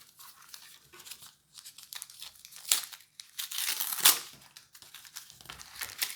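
Foil wrapper of a 2020 Pokémon booster pack being torn and crinkled open up close, a run of sharp crackling rips and crumpling bursts with brief pauses, loudest near the middle and end.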